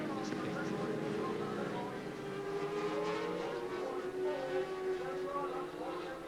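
Modified 750cc racing motorcycles with altered exhausts scream around the Cadwell Park circuit, engine notes rising and sliding in pitch as bikes pass, heard under a commentator's continuous voice.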